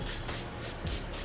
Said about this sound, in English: What I'm going to use is some Tresemme heat tamer. So I'm going to spray some of this in my hair